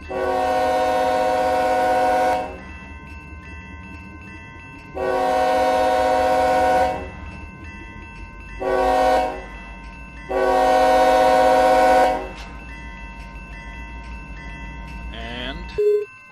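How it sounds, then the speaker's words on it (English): A loud train horn in the Run 8 V2 train simulator blows at a crossing in four long blasts, the third one short, with rumbling engine noise beneath and a brief click at the end. "That's how a train that's very close to the crossing will blow."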